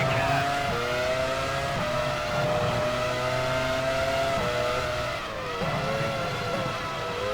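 Formula 1 race car engines from the game F1 Challenge 99-02 roar steadily, pitch climbing and dropping through repeated gear shifts, loud and close with no talk.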